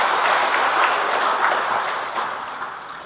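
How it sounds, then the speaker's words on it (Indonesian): A large crowd applauds a travel company at an umrah pilgrimage rally in a hajj dormitory hall, a dense, continuous wash of clapping that holds steady and eases slightly by the end. "Tepuk tangan untuk PT An-Nur Ma'arif"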